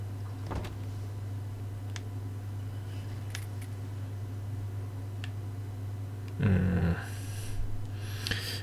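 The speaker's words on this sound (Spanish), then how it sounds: "Está escuchando una respiración." Breathing in the video game The Order: 1886: a low, steady ambient hum with faint scattered ticks, then one heavy, rasping breath or snort near the end, followed by softer breathy noises.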